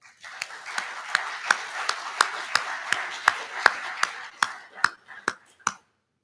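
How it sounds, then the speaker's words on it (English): A small audience at an author talk claps in sparse, evenly spaced claps for about five seconds, fading out at the end. "So let's give them a round of applause."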